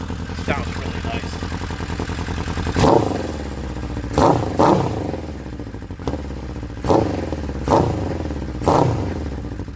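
A 1979 Honda CB750F Super Sport four-cylinder motorcycle engine idles steadily with a bright harmonic drone, broken by five or six sharp throttle blips that rise and fall back to idle, recorded up close.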